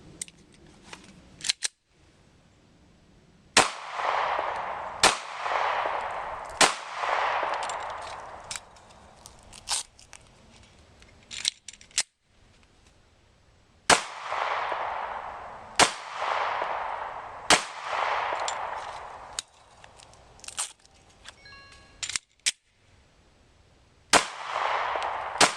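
A handgun fires at an outdoor range in short strings of sharp, loud cracks separated by pauses for reloading, each shot followed by a brief echo and some faint handling noise in between.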